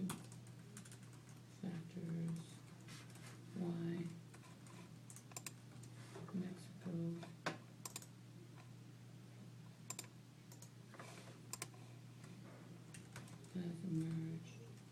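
A computer keyboard clacks in irregular bursts of typing throughout, under a low steady hum, with a voice murmuring faintly in the background at times.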